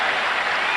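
Crowd at Madison Square Garden applauding Patrick Ewing as he heads to the bench during a Knicks–Bulls basketball game, a steady, dense wash of clapping throughout.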